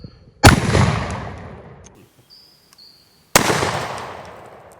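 Two loud shotgun blasts firing Russian shuttlecock slugs outdoors, each a sharp crack followed by a long rolling echo, about three seconds apart with near silence between.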